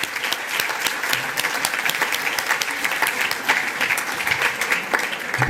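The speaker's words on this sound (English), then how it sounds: "Please give a big round of applause to James Robbins" Sustained applause from a gala audience at an awards ceremony, a steady dense wash of many hands clapping throughout without a break.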